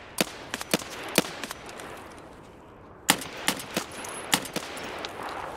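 Pistol gunfire in Escape from Tarkov, heard as sharp, loud single shots in two quick bursts separated by a short quiet gap, with no talking.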